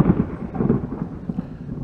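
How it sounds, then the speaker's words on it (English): Deep thunder from an approaching rainstorm rolls through in a low, uneven rumble with several swelling peaks, fairly close and loud, with no voices over it. "as you've just heard, there's another rainstorm coming"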